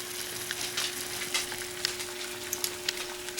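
Water at a boil in a pot on the stove for macaroni, a steady hiss and bubbling texture with small pops throughout, under a constant low electrical hum, no talking.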